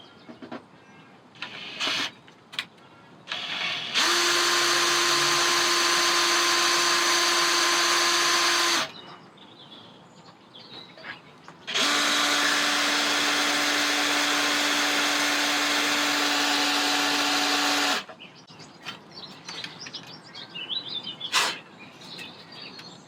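Screw extractor cavity being drilled into a stuck screw on a wood-burner door during a French farmhouse renovation: two loud, steady power-drill bursts of about five and six seconds, each whining at a constant pitch, with quiet handling noises between.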